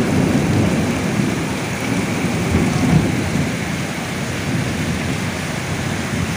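A Kalbaishakhi storm roars with heavy rain pouring down steadily, dense broadband wash with a low rumble swelling beneath, loud and continuous throughout with no voices.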